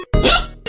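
A single abrupt hiccup, loud and close, cut short and followed by a faint voiced sound.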